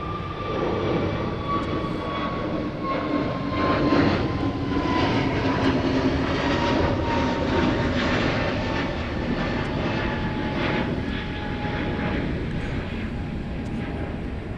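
EasyJet airliner engines roar steadily at Gatwick Airport, a loud, continuous broadband rumble and whine that swells slightly and holds for the whole stretch, with no talking.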